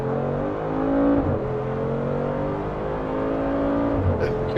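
A tuned supercar accelerates in a close, loud, sustained engine roar that holds briefly, then rises steadily in pitch as it pulls, with no voices.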